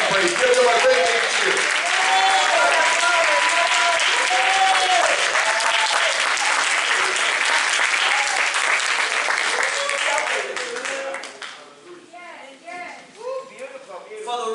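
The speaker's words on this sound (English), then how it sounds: "Come on, give God a good hand praise. Give them a great hand cheer." A church congregation at a pastor's anniversary service applauds the pastor and first lady, loud sustained clapping with voices mixed in, fading out toward the end as scattered claps and talk remain.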